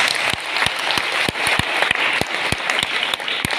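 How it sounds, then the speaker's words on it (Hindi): An audience bursts into loud, sustained applause at a business talk, many hands clapping densely and steadily throughout, with no one speaking over it. "एक बार जबरदस्त तालियां मारो"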